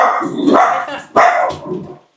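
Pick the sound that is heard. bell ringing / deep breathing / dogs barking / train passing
dogs barking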